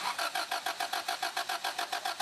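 A car engine cranks with a fast, even rhythmic churn of the starter, about a dozen regular pulses, moderately loud and alone without talk.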